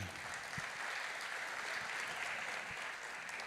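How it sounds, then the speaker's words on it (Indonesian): Steady, fairly faint applause from an audience at a book launch, a continuous wash of clapping honoring Gracia Polii. "tepuk tangan untuk Gracia Poli"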